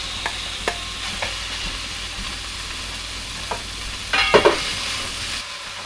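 Marinated pork shoulder sears in a heated pan with a steady broadband sizzle, broken by a few sharp scrapes and clicks of stirring and a louder burst of spatter near the end.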